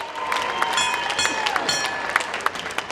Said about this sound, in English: let's give both of our warriors a big round of applause